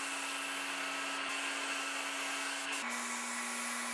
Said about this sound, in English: using my Fuji HBLP sprayer to make quick work of it